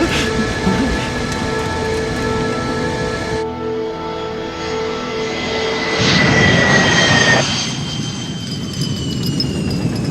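Avro Arrow jet aircraft in a fast, high-speed turn, a loud continuous jet roar that shifts in pitch partway through, with a rising whine and no voices.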